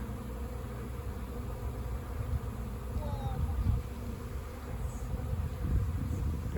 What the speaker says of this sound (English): There's a swarm. We caught him.